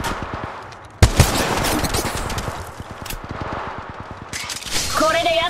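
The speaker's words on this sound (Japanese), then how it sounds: "撃たれてる。" Rapid automatic gunfire in the mobile battle royale game Apex Legends Mobile, dense bursts of shots rattling steadily for several seconds with other game effects mixed in, loud and close.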